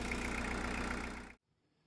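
A Peugeot 306 sedan diesel engine with a suspected blown head gasket, revved hard for about a second as a loud, steady roar that cuts off abruptly into near silence.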